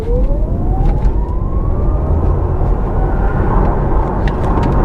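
A 2023 Audi E-Tron GT electric car accelerates hard, its motor whine climbing steadily in pitch over loud road and wind roar heard from inside the cabin.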